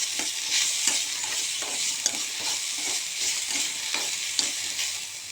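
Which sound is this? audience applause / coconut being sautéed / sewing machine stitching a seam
coconut being sautéed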